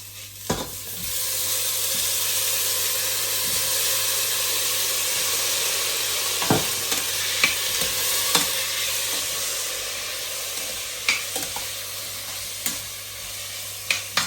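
Beans and cauliflower fry in a pan for pulav, giving a steady, close sizzle and hiss throughout, broken by occasional sharp clinks and scrapes of stirring; no one speaks.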